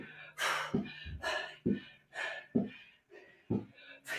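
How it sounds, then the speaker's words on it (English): Heavy panting during a fitness workout with a 5-pound weight: loud, rhythmic bursts of sharp breaths, in and out, repeating close to the microphone with short gaps between them. "Hear me panting?"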